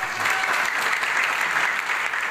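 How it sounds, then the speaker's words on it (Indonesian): An audience claps in a short, steady burst of applause, a dense patter of many hands filling the room. "Aplaus."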